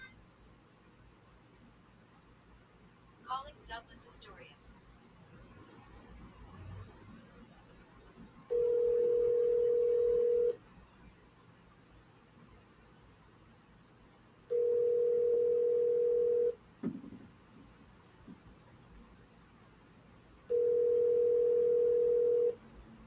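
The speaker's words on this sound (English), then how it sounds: "Hey Siri, call Douglas." A phone call placed by voice assistant rings out with three steady, identical ringback tones, each about two seconds long and spaced several seconds apart, over quiet room noise with faint clicks between them.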